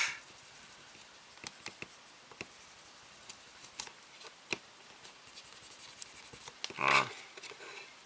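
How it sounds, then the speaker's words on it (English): Putty being rubbed over a crack on a plastic model kit of a Hasegawa Eggplane P-38 Lightning, faint close scratchy rubbing strokes in irregular bursts, with one louder sharp scrape near the end. "if you keep rubbing on this stuff, then what will remain is the putty in the crack"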